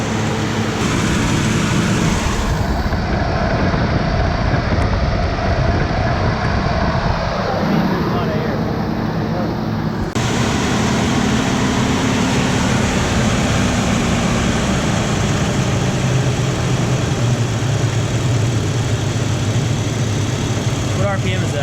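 A 1970 Chevelle V8, freshly fitted with Holley EFI, idles steadily close by in an unbroken low rumble, while voices talk over it.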